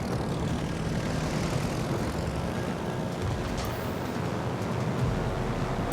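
Carrier aircraft in a World of Warships Legends naval battle give off a steady, droning propeller-engine roar that holds at an even loudness throughout, with no speech.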